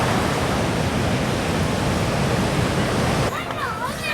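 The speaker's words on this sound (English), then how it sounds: "just sitting here listening to the waves of the oceans" Loud, continuous roar of crashing ocean surf in Hoi An, Vietnam, dense and close, dropping away near the end where a faint high chirping shows through.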